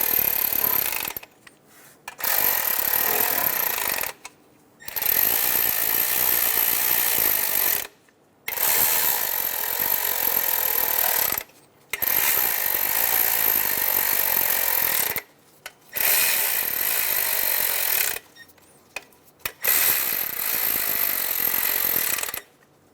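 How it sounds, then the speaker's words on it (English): A ratchet clicks in repeated bursts while snugging down fuel injector cover bolts on a 2003-2007 Honda Accord, each run of rapid close clicking lasting a few seconds and separated by short pauses. "We're going to snug our bolts down."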